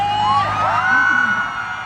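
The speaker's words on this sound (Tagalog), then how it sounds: "parinig ng mga sigaw niyo, malapit na kami!" Concert crowd at a festival stadium screaming and cheering, a sustained roar with whoops and high yells rising over it, close and loud throughout.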